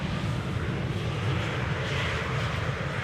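Embraer airliner arriving at Schiphol Airport, a steady, loud broadband engine roar with deep rumble, continuous and close without breaks.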